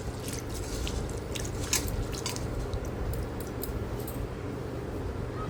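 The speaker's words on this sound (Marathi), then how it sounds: "मी हे तांदूळ स्वच्छ धुवून घेणार आहे" Rice being rinsed by hand in a bowl of water while cooking veg pulao in a home kitchen, with soft squishing, sloshing and dripping sounds continuing steadily at close range.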